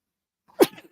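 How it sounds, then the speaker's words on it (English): A single person's sneeze, sharp and close, bursting out after a near-silent pause and trailing off in a brief breathy tail. "I have to sneeze."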